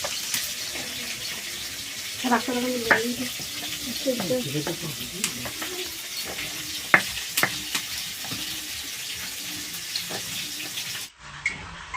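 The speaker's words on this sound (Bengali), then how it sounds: "তার মাছটা ভেজে নিচ্ছি" Fish pieces frying in oil in a home kitchen pan, a steady sizzle running throughout with clinks of stirring and utensil scrapes, faint voices in the background, and a brief drop near the end.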